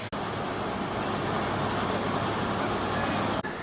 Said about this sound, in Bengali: রেল লাইনের ট্র্যাকে কিছু তো একটা কাজ চলছে যার জন্য এই রকম আওয়াজ হচ্ছে